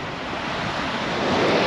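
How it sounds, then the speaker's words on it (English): Strong wind and breaking surf at Misery Beach, Albany, with the wind buffeting the microphone head-on as the steady roar of waves swells toward the end. "we've got no protection from the wind"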